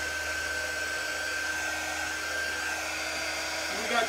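A handheld dryer blows on a plaster-coated craft tile, a steady whirring hiss with a thin high whine running unbroken for a few seconds, faint talk barely under it.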